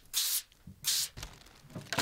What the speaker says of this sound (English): We're gonna spray some Pam.